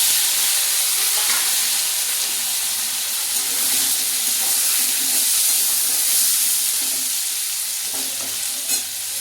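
Onions frying in hot oil in a pan for an egg and bottle gourd curry, a loud, steady hissing sizzle that fills the whole stretch with little variation.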